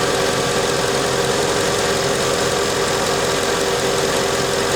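A Mercedes-AMG supercharged V8, E55/SL55/CLS55 type with a new supercharger bearing and the engine cover off, idles close up with a steady even hum and a faint fine ticking from the injectors.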